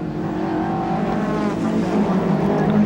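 A Ford Sierra Cosworth and a Ford Capri race at Snetterton in 1992, their engines droning loudly and steadily at high revs with a sustained, gradually rising tone and no talk over it.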